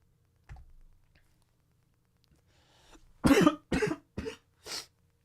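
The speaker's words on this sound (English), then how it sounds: "Sorry, I had to cough." A person coughs in a short burst of four sharp, fairly close hacks, preceded by a faint earlier throat noise, with quiet pauses between and no speech.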